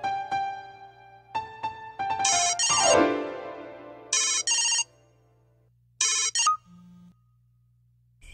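A phone ringtone from a Bhojpuri film scene plays as a loud electronic melody in several repeated bursts, separated by short gaps, over a steady low hum.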